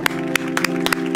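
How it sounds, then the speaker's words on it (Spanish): A handful of distinct handclaps land at an uneven pace at a Chile Swing show, sharp and close over a steady sustained musical tone. "fuerte aplauso"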